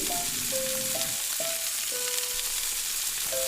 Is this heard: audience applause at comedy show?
no